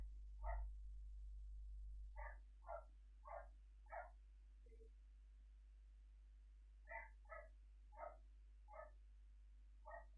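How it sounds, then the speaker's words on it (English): A pet dog barks in repeated sharp bursts at a regular pace, somewhat muffled as if from another room, two runs of barks split by a short pause over a steady low hum. "Apologies for my dog freaking out if you can hear that."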